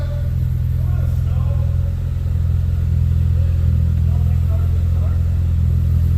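A 2017 Ford Focus RS, recently repaired with a new catalytic converter and turbo oil feed line, idles steadily while warming up, a low even rumble that stays constant throughout.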